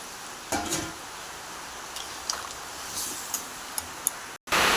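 Chicken curry broth with potatoes simmers and bubbles in a pot after hot water is poured in, making a steady soft hiss dotted with small pops and clicks and ending with a brief cut.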